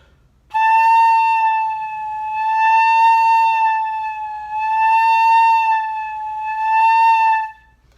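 A beginner flute holds a steady sustained tone whose loudness swells and fades in slow waves, loud then soft, like a siren, over about seven seconds with no talking.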